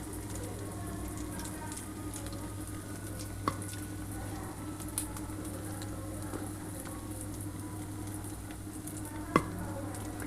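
White sesame and poppy seed paste fritters frying in hot oil in a pan, a steady dense sizzle throughout with a few small pops and light clicks.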